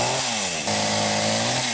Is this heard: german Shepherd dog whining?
no